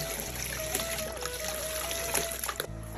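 Water trickling and splashing steadily from a tap while small baila fish are washed, a close, continuous running stream with light splatter and a brief change in flow near the end.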